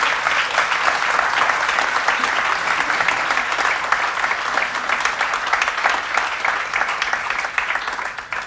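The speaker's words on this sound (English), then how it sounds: "Maybe a quick round of applause first for the panelists." A conference audience in Vienna applauds the panelists, sustained, dense clapping from a large room, steady and loud from start to end.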